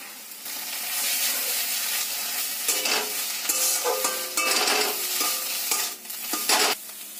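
Thankuni leaf paste being stirred in a hot pan, a steady scraping and sizzling that runs throughout, with louder spatula strokes and clatters toward the end.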